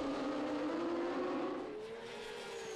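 Superbike racing motorcycles at the Lédenon circuit in France, 2012, roar continuously at the start of a race, a dense high-revving engine drone with a rising and falling pitch as the bikes accelerate away together.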